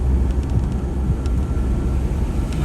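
Snow plows working a parkway after a blizzard, a steady low engine rumble with wind noise, fairly loud and unbroken throughout, with no voices.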